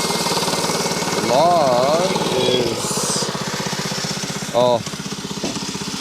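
Bandsaw mill blade cutting through a log, a steady droning engine and buzzing cut running throughout, with a person's voice briefly heard over the machine noise.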